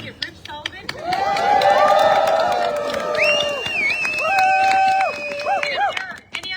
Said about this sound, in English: So I just want to do a round of applause for Delegate Rich Sullivan.